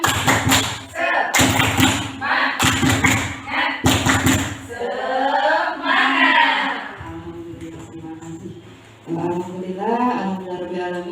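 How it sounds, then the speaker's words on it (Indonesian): A group performs a rhythmic spirit clap (tepuk semangat), with several loud, sharp clap bursts in a set pattern, then voices chanting and speaking together. "Tepuk semangat."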